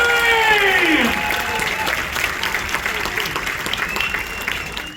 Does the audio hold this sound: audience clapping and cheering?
yes